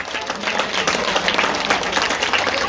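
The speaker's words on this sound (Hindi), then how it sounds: "एक बार जोरदार ताली हो जाए राजू भाई के लिए" An outdoor crowd at a Jai Bhim Ekta Samiti gathering in Jahangir Puri for the April 14 Ambedkar Jayanti celebration, applauding Raju Bhai; steady, fairly close, dense clapping over a faint background murmur.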